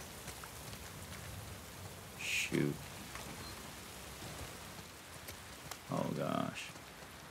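Steady rain falls in a dark, spooky area of The Last of Us Part II, a constant hiss throughout with brief exclamations from a voice over it.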